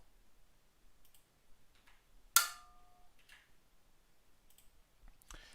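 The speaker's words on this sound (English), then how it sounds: "Let's spin the wheel." A random selection wheel in the sword-fighting game Hellish Quart is spun, giving one sharp click with a ringing tail amid faint scattered ticks. The sound is quiet and isolated, with no talk.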